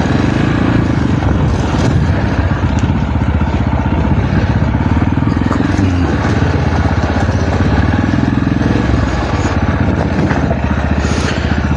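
A heavy motorcycle's engine runs steadily near the listener in the small town of Cayo Sierra, a loud continuous rattling putter with slight clatter and no talking.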